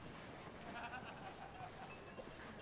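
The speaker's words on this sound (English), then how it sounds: "we have a mama sheep and baby sheep over there" Sheep bleat faintly in an alpine meadow in Switzerland, a ewe and her lamb, the calls distant and soft over steady outdoor ambience with wind-like noise.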